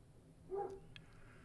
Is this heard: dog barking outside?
yes